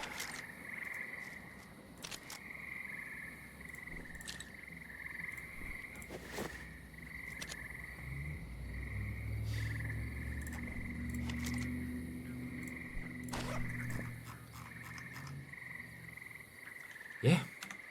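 Loud chorus of frogs croaking in the game Project Silverfish, layered repeating croaks and a steady trill that swell in the middle, with faint occasional clicks and no voices.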